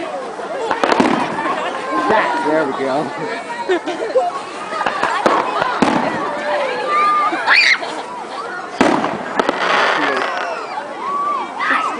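Fireworks at a family day event burst repeatedly over several seconds, crackling and booming at a moderate distance, while a small group of people chats and exclaims throughout.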